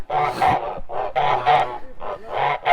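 Several loud, nasal honks from Kholmogory geese in quick succession, close by, in uneven bursts with short gaps between calls.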